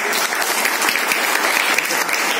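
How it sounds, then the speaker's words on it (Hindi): A large crowd at a motivational business meeting claps loudly and energetically, a dense, close, continuous roar of applause lasting a couple of seconds. "एक बार और जोरदार ताली बजाइए"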